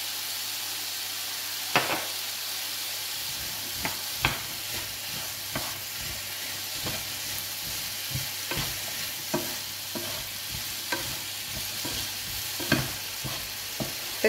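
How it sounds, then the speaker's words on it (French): Potatoes and eggs for a Spanish tortilla sear in a hot pan, a steady soft sizzle broken by regular spatula taps and scrapes against the pan, with no talking. "Faites bien saisir d'abord."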